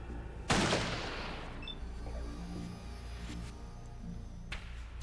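Burst gunfire in Fallout 2, a video game: a loud, sharp volley erupts near the start and decays into a rumbling tail, followed by sustained low background noise and a brief crack near the end.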